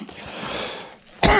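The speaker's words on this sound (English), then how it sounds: "I'm coughing" A single sharp, close cough bursts out at the end, following a stretch of muffled background noise.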